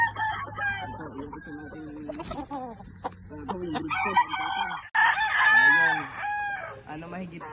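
Gamefowl roosters at a game farm crow repeatedly, loud and near, with clucks between the calls and someone talking over them.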